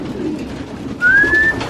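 Pigeons at a loft, a soft low murmur of cooing followed by a single clear rising whistle-like call, close and moderately loud, with no voices.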